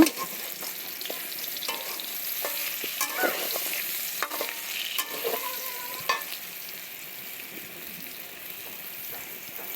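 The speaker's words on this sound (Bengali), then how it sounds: "এই যে আমি মিষ্টি কুমড়া ভেজে নিতেছি" Pumpkin pieces frying in a pan for a vegetarian potato and pumpkin dish, with a steady soft sizzle and occasional stirring scrapes throughout, no talking.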